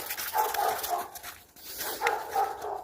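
Dogs barking at night in the video game A Home in Mother Russia, several short yapping barks in two bursts under a loud, hissy game soundscape.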